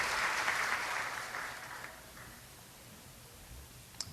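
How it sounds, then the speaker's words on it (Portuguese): A church congregation claps for Jesus during a sermon, a dense wash of applause that starts full and fades away over about two seconds, leaving a quiet room with a single faint tap near the end. "Aplauda o Senhor Jesus"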